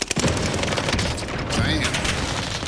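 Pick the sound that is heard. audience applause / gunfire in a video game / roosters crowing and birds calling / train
gunfire in a video game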